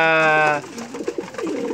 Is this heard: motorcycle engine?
no